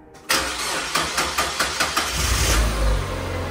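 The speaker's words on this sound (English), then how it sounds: "Now, let's start the car to see if all is well." A Mazda MX-5 Miata, unused for over a year and fitted with a new fuel filter, cranks close by with a rhythmic starter churn for about two seconds, then catches and settles into a loud, steady run.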